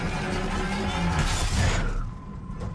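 Human cannon launching a soldier in Battlefield 4: a dense, roaring whoosh of game noise that holds steady for about two seconds, then drops away to a quieter rumble.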